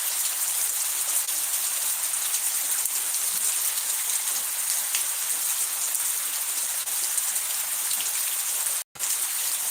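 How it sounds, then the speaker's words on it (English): Rain showers fall on a mountain, giving a dense, even hiss of raindrops on surfaces. The hiss continues steadily throughout and drops out for a moment near the end. "I appreciate the rain showers."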